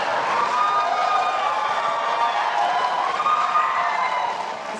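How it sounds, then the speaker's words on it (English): Audience at a presidential debate breaking into applause and cheering, a broad, steady wash of clapping from a large crowd that swells and holds before easing slightly at the end. "Please do not applaud."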